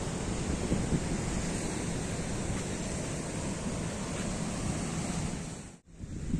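Sea waves washing against a rocky shore along the Italian coast, a steady broadband roar mixed with wind buffeting the microphone and a brief dropout near the end.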